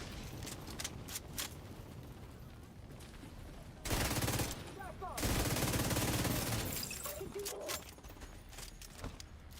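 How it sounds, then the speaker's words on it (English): Bursts of video game shooter gunfire, rapid machine-gun volleys and scattered single shots, with a loud grenade-like blast in the middle, dense and close, mixed with faint background talk. "I just got hit with bullets from multiple ads. Somewhere a grenade came in."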